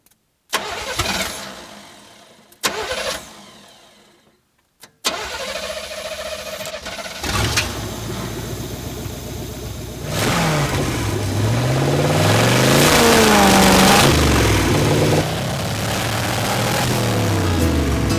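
A demolition derby car's engine cranks in two short bursts, catches on the third try, then idles roughly and revs up loud and close in rising and falling sweeps.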